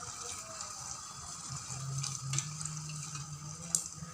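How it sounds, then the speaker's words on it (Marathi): Water pours into a pot of rice and chicken being cooked as chicken bhat, a faint, steady splashing that swells slightly midway, with no voices. "पाणी घालूया."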